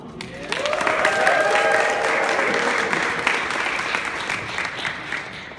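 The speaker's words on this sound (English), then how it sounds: "so let's give them applause" A rally crowd breaks into sustained, dense applause that stays loud and steady for several seconds, with faint cheering and voices mixed in.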